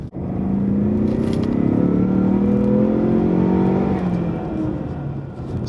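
A 2017 EcoBoost Mustang accelerates hard, its engine note rising steadily through the revs before easing off near the end, loud and close from inside the car with no talking.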